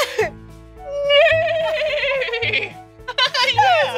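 A voice imitates a horse neigh at a busy indoor playground, a single drawn-out wavering vocal whinny rising and falling over about a second, followed by another short higher imitation amid background chatter.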